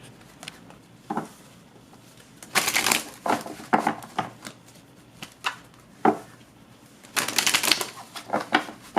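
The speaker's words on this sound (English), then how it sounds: "Shuffle a few more times and then we're going to lay these cards out" Tarot cards are shuffled by hand in irregular bursts of crisp riffling and slapping, separated by quieter pauses, recorded close up with no talking.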